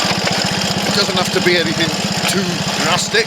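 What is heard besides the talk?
Triumph Tiger Cub motorcycle engine running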